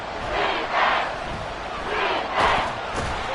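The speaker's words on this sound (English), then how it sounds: "This crowd doing all they can." A football stadium crowd at a Rams versus Seahawks game roars and cheers near the goal line, the noise swelling in waves.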